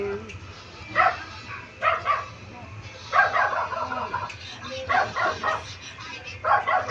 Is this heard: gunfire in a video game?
no